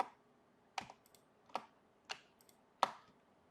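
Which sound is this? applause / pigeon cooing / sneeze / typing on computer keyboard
typing on computer keyboard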